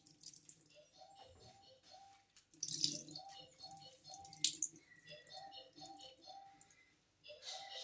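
Water runs and splashes while a hair mask is rinsed out of hair, a faint, uneven trickle with small drips and bursts of splashing, close by and fairly quiet.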